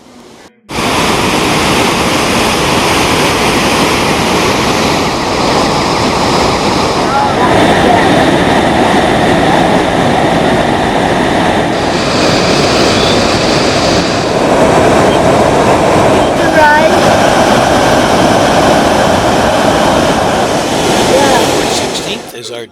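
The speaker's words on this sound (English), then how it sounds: "the native name for Victoria Falls, which translates to smoke that thunders" Victoria Falls, the huge waterfall, roars in a loud, unbroken rush of water that holds steady from start to finish, a dense close-up wall of sound.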